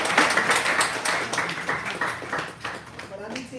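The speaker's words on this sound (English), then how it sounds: "Can you get a clap for it?" Brunch audience at a ballroom awards event clapping in a steady burst of many hands, fairly close, tapering near the end with a voice over it.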